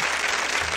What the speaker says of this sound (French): Ça mérite un tonnerre d'applaudissements